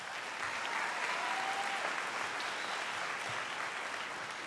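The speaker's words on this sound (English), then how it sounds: "Let's give them another big round of applause." Steady applause from a crowd honouring graduates at a college nursing pinning ceremony, sustained and even throughout, heard from a moderate distance in a large room, with no speech over it.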